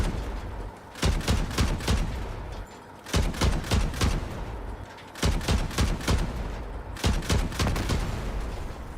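Four distinct bursts of rapid gunfire from a cooled vehicle weapon in the game Crossout, each lasting about a second with short pauses between, loud and close.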